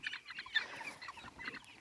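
Chickens clucking softly in a backyard pen, a few brief mid-pitched calls scattered over faint background noise, no talk.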